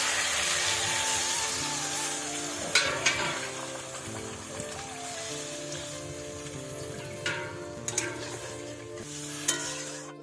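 Bengali fish curry broth comes to a boil in a pan, giving a steady bubbling hiss with a few sharper pops and clinks rising above it, with no one talking.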